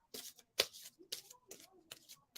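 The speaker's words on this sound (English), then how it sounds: "So I'm going to shuffle this again." A deck of tarot cards is shuffled by hand in several quick riffling bursts, close and fairly quiet, with short pauses between each pass.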